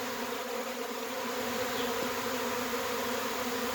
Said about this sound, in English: And there is Pinky in the midst of the swarm of bees. And they're pretty much landing all over me.